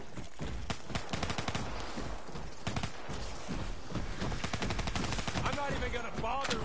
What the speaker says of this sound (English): Well, I'm trying to shoot the dragonflies.